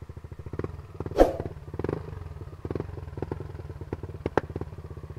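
Yamaha Nmax 155 scooter fitted with a JVT exhaust, not yet remapped, idling with a deep rhythmic thump, then revving with sharp popping backfires, heard up close with no talk.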